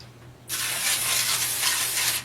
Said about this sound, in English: we're just going to give this pan a little bit of spray